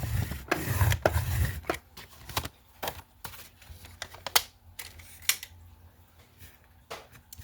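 Paper sheets being cut for a journal cover give a series of sharp clicks and brief scraping slices, near and distinct, separated by short quiet gaps after an initial rustle.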